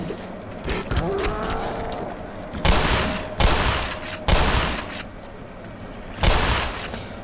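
Pistol gunfire in the Black Mesa video game, several loud sharp shots spaced a second or so apart over a steady background rumble, with a voice talking briefly between them.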